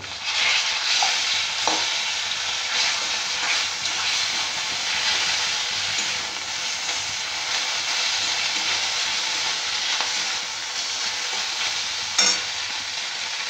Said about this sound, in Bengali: এবার এটাকে আমি একটু ভেঙে ভেঙে ভেজে নেব।